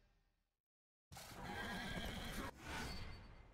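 Ruin, War's warhorse in the game Darksiders, lets out a loud, close whinny that rises abruptly after a moment of silence, runs for about two seconds, then breaks into a second shorter neighing burst that fades out.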